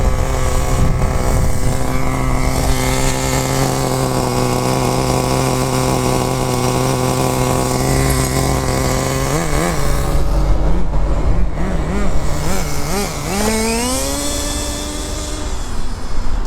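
A rebuilt Pureten MK2 engine runs loudly and steadily up close, its harmonic drone holding even before the revs rise and fall in several short blips and then climb in a final sweeping rev.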